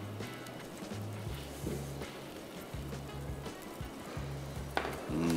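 Egg cooking in a non-stick pan, a soft, steady sizzle with faint stirring and scraping, accompanied by low repeating tonal hums, quiet and close.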